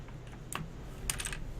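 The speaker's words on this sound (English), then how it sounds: "Let's pop this out real quick. Little maintenance on the keyboard." A computer keyboard keycap is pried loose for cleaning, a few quiet plastic clicks and taps close to the microphone, a short snap midway followed by a brief cluster of clicks.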